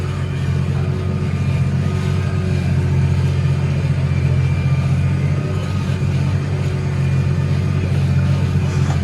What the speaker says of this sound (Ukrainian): Тракторець новенький. 390 мотогодин.